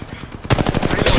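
Rapid automatic gunfire in the mobile shooter Apex Legends Mobile, a burst of quick repeated shots that grows denser and louder halfway through, with a voice heard faintly underneath.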